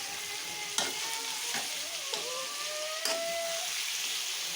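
Pointed gourd and potato cook in oil left from frying fish, giving a soft, steady sizzle. A spoon scrapes and clinks against the pan a few times while stirring, close by and fairly quiet.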